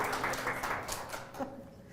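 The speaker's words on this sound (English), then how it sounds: "Let's give a warm hand of applause." A conference audience claps to welcome a speaker, a brief burst of dense applause that fades within two seconds.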